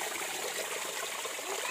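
A small waterfall in a forest pours in a steady, hissing wash of water, soft and even throughout the brief stretch with no voices over it.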